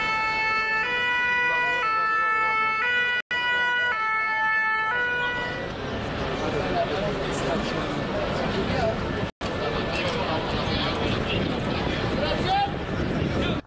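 Emergency vehicles and ambulances responding to the Paris cathedral fire blare loud wailing sirens with overlapping tones, joined by busy traffic and crowd noise, continuous for the whole stretch.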